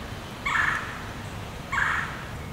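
Wild turkey gobbling outdoors during a spring hunt, two separate rattling gobbles about a second apart, moderately distant over a quiet background.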